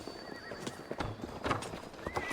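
Horse hooves clip-clop in a steady rhythm with whinnies and neighs, in the Assassin's Creed Valhalla Siege of Paris setting, set against a busy background of ambient game sound.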